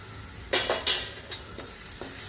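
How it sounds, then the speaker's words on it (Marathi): A spatula scrapes green chilli and garlic paste around a hot pan with mustard seeds for a radish bhaji, giving a few sharp stirring strokes with soft sizzling between them. "हिरवी मिरची आणि लसणाची पेस्ट मिक्स करायचं हे सर्व चांगलं।"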